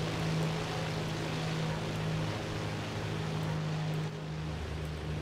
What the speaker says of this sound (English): Love the sound of these aeroplanes.